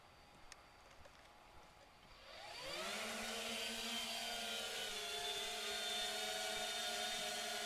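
A 3DR Solo drone spins up and lifts off, its rotor whine rising at about 2.5 seconds into a loud, steady buzzing drone with harmonic tones that holds to the end, after a quiet start.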